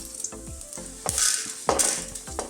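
Spices frying in oil in a pan for a chicken and potato curry crackle with a bright sizzle, broken by several close scraping stirs of a spoon against the pan.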